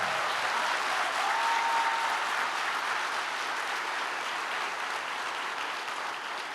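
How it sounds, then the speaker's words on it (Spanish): A church congregation claps steadily at a Spanish-language sermon by Pastor Carlos León, with loud, dense applause filling the whole stretch and easing off only slightly toward the end. "Si le va a aplaudir, apláudale fuerte al Rey."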